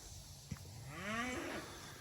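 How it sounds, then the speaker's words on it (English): A farm cow lets out a single loud, close moo that swells and trails off, preceded by a brief knock, with no talking over it. "And what are you mooing about?"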